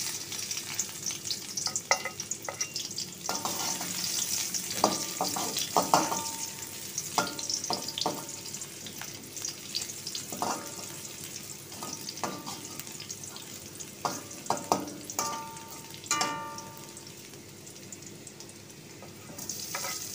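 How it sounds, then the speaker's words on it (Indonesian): Spice paste stir-fried in hot oil, a soft continuous sizzle broken by irregular clinks and scrapes of a utensil against the pan, close and without talk. "Tumis bumbu hingga layu aja ya dan harum."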